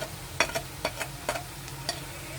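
Chopped onion, garlic and ginger fry with spices in a pan for a Bihari cabbage sukhauri and potato dish; soft, steady sizzle broken by several sharp stirring scrapes and clinks, close and fairly quiet, with no talking.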